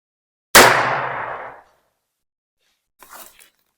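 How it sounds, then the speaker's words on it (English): A single sharp .22 Long Rifle shot from a Heritage Rough Rider revolver cracks loudly and rings out for about a second, followed after a pause by a faint rustle. "the first caliber we're going to shoot at the vest is going to be a 22 long rifle out of this Heritage Rough Rider"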